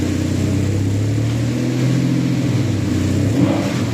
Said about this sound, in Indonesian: Enteng banget mesinnya dan terasa sehat sekali mesinnya tuh.